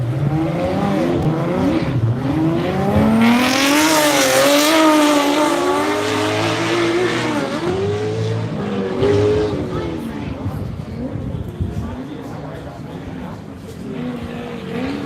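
A race truck roars around a track with its engine wound up, loud revving that rises and falls through gear changes and turns, with tire noise and a commentator talking over it.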